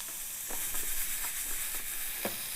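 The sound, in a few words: garlic and red crushed pepper sizzling in a pan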